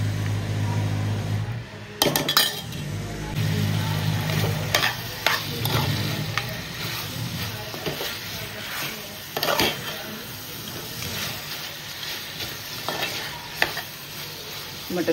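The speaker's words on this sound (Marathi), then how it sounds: "मटण व्यवस्थित आपण परतून घेतलंय" Mutton being stirred and sautéed in a pan for Aagri-style mutton biryani, a continuous close sizzle with intermittent scraping strokes of the spoon against the pan.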